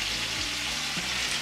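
Tiger prawns fried in oil with onion and green chili, their water hitting the hot pan in a dense continuous sizzle with faint crackles, heard up close and steady throughout.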